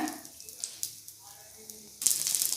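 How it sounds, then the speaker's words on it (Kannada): Carrot and onion masala dosa cooks on a pan over a medium flame: a faint, low sizzle runs under a voice at first, then swells into a brighter, louder hiss for the last half second. "ಕ್ಯಾರೆಟು ಈರುಳ್ಳಿ ಮಸಾಲೆ ದೋಸೆ ಬೇಯ್ತಾ ಇದೆ"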